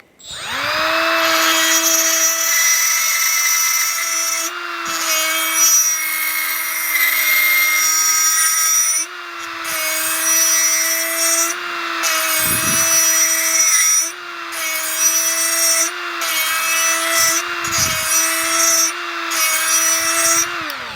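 A small die grinder with a 6mm carbide burr whines at a steady high pitch while it cuts, with a strong sustained tone and a few brief dips where the load changes or the tool pauses.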